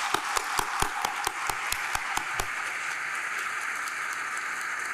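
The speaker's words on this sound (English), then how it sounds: "let's all give them a round of applause" Applause at the 2022 University of Louisville Brandeis School of Law graduation ceremony opens with a run of distinct, evenly spaced hand claps, then spreads into a steady wash of crowd clapping.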